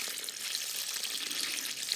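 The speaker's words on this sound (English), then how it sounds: "it flows all year round, non-stop." Spring water pours steadily out of a pipe on a family farm, a constant close hiss and splash with no voices.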